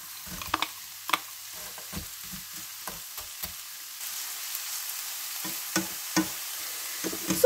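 Onions and carrots fry in a pan with a soft, steady sizzle, broken by repeated sharp clicks and scrapes of a utensil stirring against the pan, close and moderately quiet.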